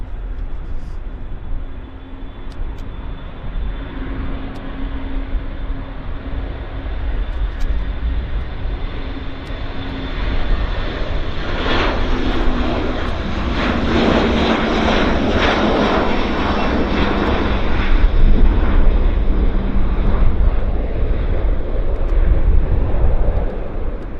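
Airliner taking off at Vancouver Airport, jet engines swelling from a distant whine into a loud, rushing roar that peaks midway and stays strong as it climbs away.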